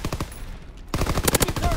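Gunfire in a shooter video game: rapid automatic bursts of close, loud shots, a brief lull, then another fast string of shots.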